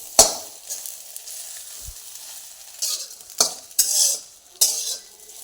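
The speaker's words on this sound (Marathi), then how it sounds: "याला 2 मिनिटासाठी असंच हलवायचं" Soybean fry being stirred in a pan, a spatula scraping and clinking against the metal in several sharp strokes over a soft sizzle, close up, no talking.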